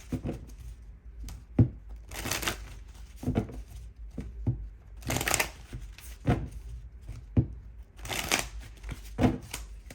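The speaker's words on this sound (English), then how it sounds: "Let me do a quick shuffle." Repeated bursts of tarot cards being shuffled, riffling and rustling close by in uneven bursts, with short pauses between.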